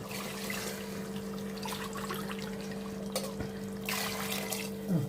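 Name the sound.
water being poured into pot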